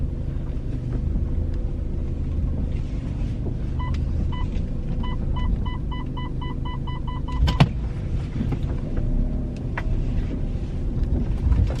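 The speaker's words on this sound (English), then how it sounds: "Going to park without scratching my wheels." A car is parked, with a low engine rumble throughout, a run of short repeated electronic beeps in the middle and a sharp thump near the end.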